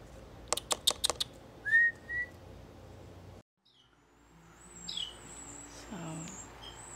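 Nestling birds give a quick burst of high, sharp peeping calls near the start, then fainter chirps and scattered calls follow after a short silence, all fairly close and without talk.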